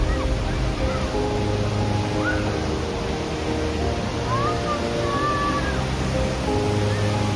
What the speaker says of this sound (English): Oh wow, this is a very powerful waterfall.